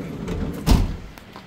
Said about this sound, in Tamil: கதவு லொக்கு பிரச்சனை